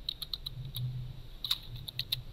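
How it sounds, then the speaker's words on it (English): Quick, light taps on a computer keyboard, a short burst of clicks, then a pause, then a few more keystrokes, faint and close with no talking. "So I'm just going to type get currency."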